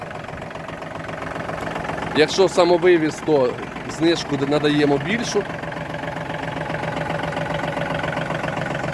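A Kubota L1 245 tractor engine idles with a steady low rumble and faint knocking, while someone speaks briefly over it in Ukrainian.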